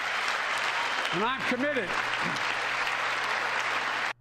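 Sustained audience applause fills a State of the Union address in a large chamber, loud and steady throughout, with a speaker's voice briefly cutting through the clapping.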